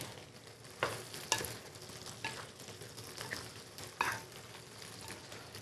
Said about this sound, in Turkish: Şimdi yavaş yavaş şöyle bir karıştıralım.